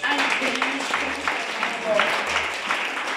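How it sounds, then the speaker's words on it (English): A church congregation claps hands together in worship, a steady crowd patter of many palms filling the room at moderate loudness, with voices mixed in beneath. "Can we clap our hands for Jesus?"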